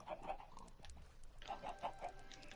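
Chickens cluck softly in short bursts in a video game, over a faint background murmur, with a quiet low thump partway through.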